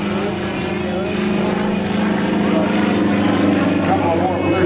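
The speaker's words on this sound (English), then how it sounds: "That plane is barely moving as he hovers it and is actually flying it away from us, hanging on that composite propeller." An aerobatic propeller plane with a composite propeller roars continuously at full throttle while hanging nearly motionless in a hover at an airshow, a steady loud drone with a strong low hum throughout.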